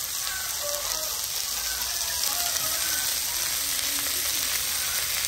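Green chillies fry in a pan for a Jaffna mutton curry, giving a dense, steady sizzle and crackle close up, with no voices.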